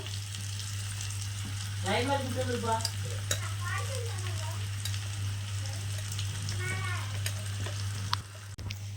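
Mutton curry masala frying in a pan, with a continuous sizzle and repeated stirring scrapes over a steady low electrical hum, and faint voices mixed in at moments.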